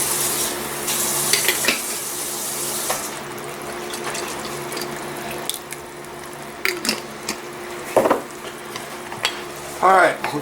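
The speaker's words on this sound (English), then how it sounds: "Alright, we're going to stir this. We're going to let it come back up to a simmer." Pork in sauce simmering in a pot, stirred with a utensil that scrapes and clinks against the sides under a steady soft bubbling sizzle, a few sharper knocks near the end.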